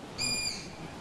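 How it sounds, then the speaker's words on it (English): At a riverside waterfront campsite, a bird lets out a single short, high, thin whistled call, faint against a quiet outdoor background. "Oh, birds."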